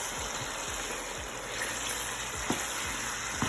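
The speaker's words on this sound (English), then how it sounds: "Continue to let it fry" Steady sizzling of chicken skin and onions frying and browning in a skillet for gravy, with a few soft scrapes and clinks from stirring.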